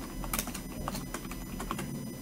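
Quiet, quick keystrokes on a computer keyboard while entering a title for a livestream, a short run of light clicks close by.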